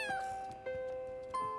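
A kitten meows three times in a row, with long, clear, tonal cries that are close and fairly loud. The middle call is the longest. No one speaks.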